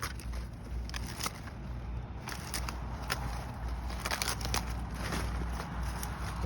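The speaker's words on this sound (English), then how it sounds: "I'm just gonna trim this down. You just cut them all off." Garden shears snip through old perennial flower stalks in a series of sharp, crisp clicks and crunches over a low background rumble, close but fairly quiet.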